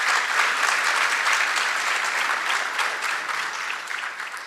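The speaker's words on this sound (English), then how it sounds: "Prof, you deserve a round of applause for what has taken place here." A hall of faculty members and students at a business and management career day gives the head of department a round of applause, steady and full throughout, slowly easing toward the end.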